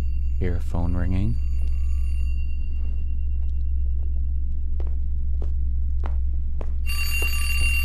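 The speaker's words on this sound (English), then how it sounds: "Hear a phone ringing." A short burst of electronic telephone ringing near the end, over a steady low hum, after a brief voice-like tone at the start.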